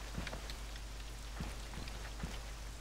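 Rain falls in the game DayZ, a steady hiss with soft scattered drop taps and no voices.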